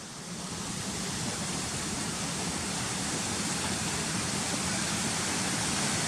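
A constant roaring rush of falling water fills the air, steady and loud without pause, no talking.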